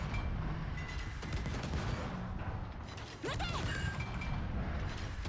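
Naval guns firing armour-piercing shells during a World of Warships operations battle, a dense run of mechanical gun reports and crashes over constant engine and ocean rumble, with no gaps of quiet.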